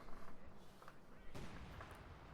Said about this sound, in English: There's some sector artillery coming in.